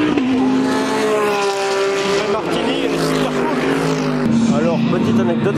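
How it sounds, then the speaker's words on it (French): A Mercedes-AMG GT race car drives past with a loud, steady engine drone whose pitch rises and falls through the gears. Someone talks over it the whole time. "c'est une AMG GT qui passe"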